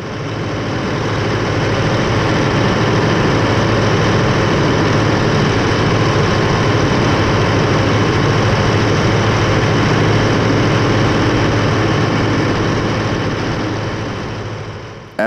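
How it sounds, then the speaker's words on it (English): A 1982 John Deere 8850 tractor with a 370-horsepower V8 harrowing a field, its heavy low engine drone running steady and loud throughout. "I was also able to help harrow a field with my 1982 V8 powered 370 horsepower John Deere 8850."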